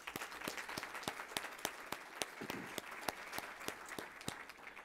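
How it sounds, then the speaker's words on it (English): A forum audience applauds in a steady wash of clapping, with sharper individual claps standing out at regular intervals, heard at a moderate distance and fairly quiet overall. "Give them a round of applause as well."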